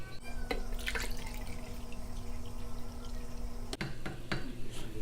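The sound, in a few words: water being poured into a ration food pouch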